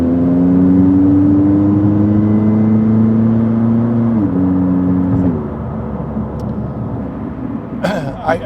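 A 2019 McLaren 600LT supercar accelerates with a loud, close engine note that climbs steadily, drops at a gearshift and then settles into a quieter cruise, with a short burst of other noise near the end.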